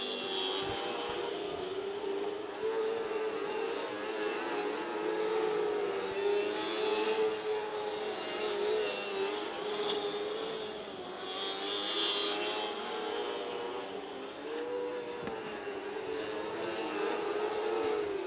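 A pack of 1200 mini sprint race cars circles Deming Speedway, a continuous high engine drone that swells and fades as the cars pass at a moderate distance, with no voices.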